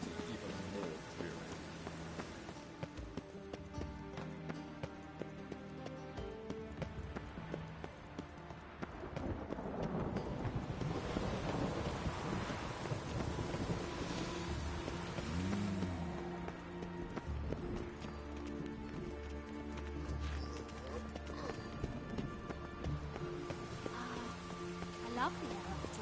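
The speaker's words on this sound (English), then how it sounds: "Rain makes this city even more dreary." Steady rain falls across a dreary city street in a PS4 video game, a constant wash of drops pattering on surfaces, with soft musical tones running underneath throughout.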